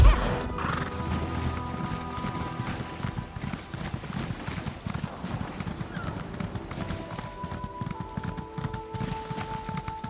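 Horses gallop with steady clip-clop hoofbeats and a loud whinny in Elder Scrolls Online: Summerset, the hooves running continuously and close for the whole stretch, with no talk.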